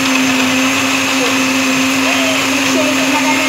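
A blender whirs steadily and loudly while making a fruit shake, a constant close motor whine with a strong steady hum throughout.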